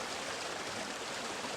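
Steady broadband rush of river water flowing around the legs while wading downstream, continuous and close with no pauses and no voices.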